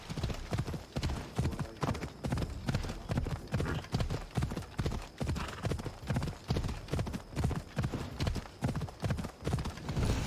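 A horse gallops in Assassin's Creed Odyssey, its rapid hoofbeats pounding in a steady, driving rhythm that stays close and loud from start to finish.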